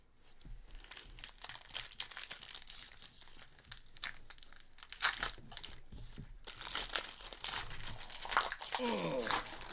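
A Pokémon 151 card pack wrapper torn open, a continuous close crinkling and crackling of foil with sharp tearing bursts, fairly loud throughout.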